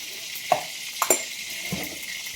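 Turmeric and ground black masala fry in a pan, giving a soft, steady sizzle. A few faint stirring clinks and scrapes sound over it. No voices.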